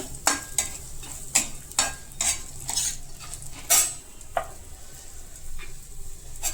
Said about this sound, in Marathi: त्यामध्ये आलं टाकायचं ओलं खोबरं थोडं भाजत आलं का लाल झालं का